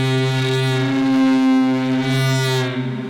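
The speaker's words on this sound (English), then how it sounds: "We can still kind of hear the sources even without the mics because we're hearing the reverb of the sources in the room." A sustained, droning synthesizer tone with rich harmonics swells and fades slightly, sounding diffuse and reverberant as if heard indirectly in a room.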